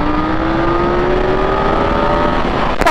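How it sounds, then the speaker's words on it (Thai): A KTM Duke 890R motorcycle in third gear pulls hard after a clutch dump, its engine a loud, continuous rising whine and roar heard up close, ending with a brief burst of wind or handling noise. "อยู่เกียร์สามนะเดี๋ยวลองดีดคลัตช์ดู"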